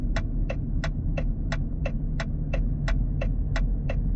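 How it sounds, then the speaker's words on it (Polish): Turn signal indicator of a Maserati Grecale GT 2.0 Turbo ticking steadily, twelve crisp clicks at an even rhythm about three per second, close and clear over a low steady cabin hum. "Czy uważacie, że ten dźwięk kierunkowskazów jest ładny?"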